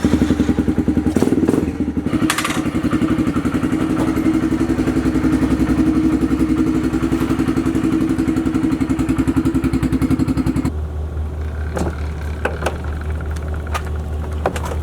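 A Kawasaki KLX110 pit bike being loaded and strapped into a bus: steady engine-like rumble for about ten seconds, then thumps and clattering knocks of handling and straps, with no talking.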